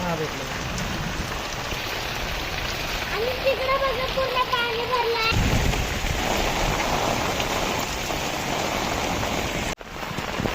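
The first monsoon rain of the season falls steadily in the Konkan countryside with wind blowing, a continuous close hiss of drops on surfaces, while a person talks over it for much of the time.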